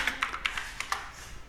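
Typing on a computer keyboard, a quick irregular run of about eight crisp, close key taps with short gaps, alone with no voices.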